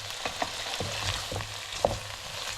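Half a chopped white onion and two garlic cloves fry in a skillet, making a soft, low sizzle with a few light scrapes and taps of a utensil, close but fairly quiet.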